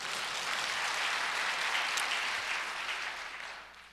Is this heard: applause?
yes